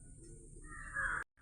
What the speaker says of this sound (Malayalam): ബാക്ക്ഗ്രൗണ്ടിൽ കാക്ക കരയുന്നുണ്ട്